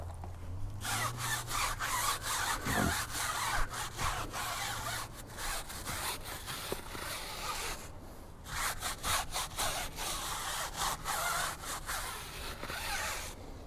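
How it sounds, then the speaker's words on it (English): A wheel and tyre brush scrubs a car's back tyre in repeated quick back-and-forth rasping strokes, close and loud, with a short pause partway through and no talking. "We'll actually take this over, scrub this back tyre as well."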